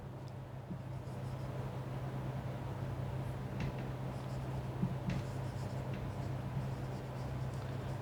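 A maths solution for a class 7 fractions and decimals problem being written by hand, with faint intermittent pen strokes over a constant low hum and steady background noise, and no talk.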